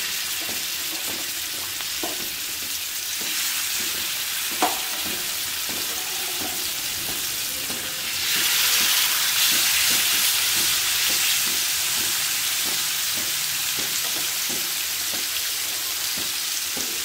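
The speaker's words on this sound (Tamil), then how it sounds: "மீனை பொறுமையாக வறுத்து எடுக்கணும்." Fish frying in hot oil on a stone pan gives a steady, close sizzle for the whole span, swelling louder and hissier about halfway through, with faint clicks and the odd sharp tap of a utensil.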